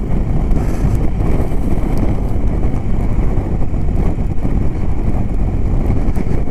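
BMW R1250 GSA motorcycle engine chugging along in sixth gear at about 55 mph, a steady low rumble mixed with heavy wind buffeting and road roar.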